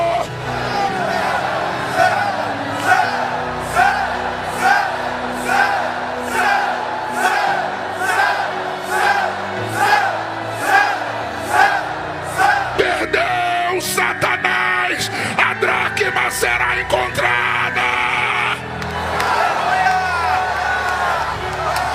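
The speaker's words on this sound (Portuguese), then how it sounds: "Eu quero ouvir esse ginásio dizendo: santo, santo." A church crowd in a gymnasium shouts "santo" in a loud, rhythmic chant, around a dozen regular repeated calls echoing through the hall, then dissolving into mixed yelling and cheering.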